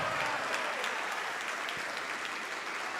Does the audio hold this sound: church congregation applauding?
yes